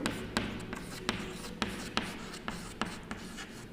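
Chalk or marker writing on a classroom board, a series of sharp taps and short scratchy strokes in an irregular rhythm, close and fairly clear, with no speech over it.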